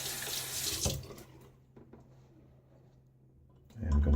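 A bathroom tap runs into a sink while water is added to a shaving lather, a bright steady hiss that trails off, then gushes again briefly at the end.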